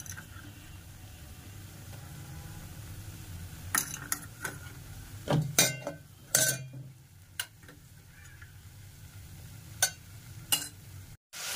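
Coconut, ginger, garlic and coriander paste frying in oil in a pan for egg curry, a soft, quiet sizzle broken by scattered clinks and scrapes of stirring.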